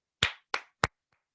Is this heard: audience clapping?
yes